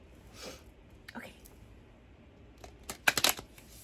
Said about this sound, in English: the cards will not overlap when I shuffle them sometimes